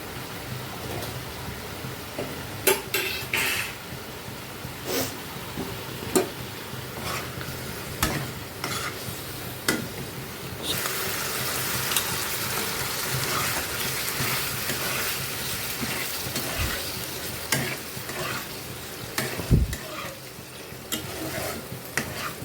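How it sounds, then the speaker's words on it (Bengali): Jackfruit kofta curry masala being sautéed and stirred in a pan, with a steady frying sizzle under repeated scraping and clinking of the spoon against the pan. "ভালো করে একটু কষিয়ে নেব।"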